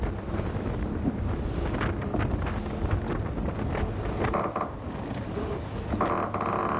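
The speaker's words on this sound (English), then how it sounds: "Certainly we're starting to feel the breeze come in on cue, this Mistral." Mistral wind gusting across the sea off Porto Cervo aboard a 52 Super Series racing yacht under sail, a loud, continuous roar of wind buffeting the microphone with water rushing past the hull.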